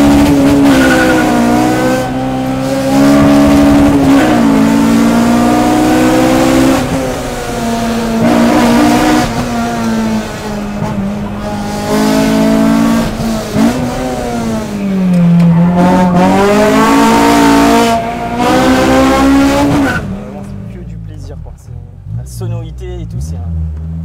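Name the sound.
Honda Civic with K20 engine swap accelerating on road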